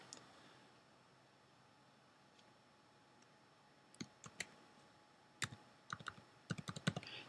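Keys are tapped on a keyboard, a few isolated clicks followed by quicker bursts of typing, close and crisp in a quiet room.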